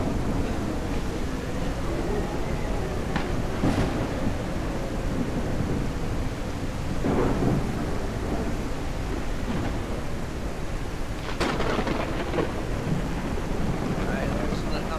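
Steady rain with rumbling thunder and a few sharper cracks fills a zombie survival game world, a dense, constant wash of noise throughout with no talking.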